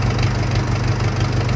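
A tractor engine idles with a steady, close, low rumble and an even mechanical throb that holds unchanged throughout, with no voices over it.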